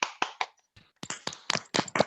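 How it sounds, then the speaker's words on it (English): People on a video call clap on cue in rough bursts, separate sharp hand strikes with a short pause partway, then a denser patter of several clappers, close and slightly uneven. "We want a plebeian clap"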